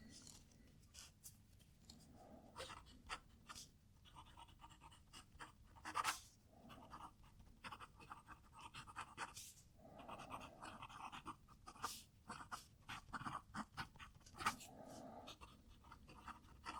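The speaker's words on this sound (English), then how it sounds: "a little bit of a sing-songness coming through there. Hopefully you can hear it, just like this high-pitched like song as I'm writing" A Platinum fountain pen nib scratches across paper in a steady run of small strokes, close and fairly quiet, with a faint high singing squeak in the line.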